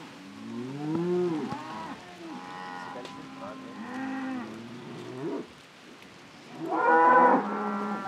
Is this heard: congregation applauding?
no